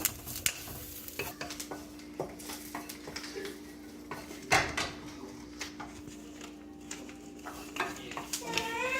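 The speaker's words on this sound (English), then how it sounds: "So for this we have added 1 teaspoon oil and frying the curry leaves." Curry leaves frying in a teaspoon of oil for Iyengar sambar powder, with soft crackle and stirring scrapes and clinks of a pan and utensil throughout, close by, a brief louder clatter midway, and a voice in the background.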